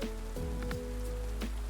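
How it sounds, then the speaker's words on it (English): Rain starts falling, a steady wash of drops pattering on surfaces, with occasional passing tones and a low continuous hum underneath. "It starts to rain."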